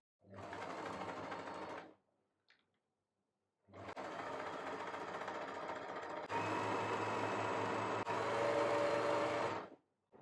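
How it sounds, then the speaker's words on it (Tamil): Sewing machine stitching fabric for a homemade hair scrunchie, running in steady continuous bursts with a short pause, close and fairly loud, no talking. "ஃபுல்லாகவே கடைசி வரைக்கும் நம்ம தைச்சி வந்துடுவோம்"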